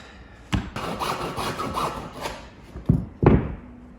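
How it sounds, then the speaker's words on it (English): A handsaw cuts into a sled with quick back-and-forth rasping strokes, close and fairly loud, broken by a few sharp thuds and knocks as the blade catches. "We got Austin hacking up his sled."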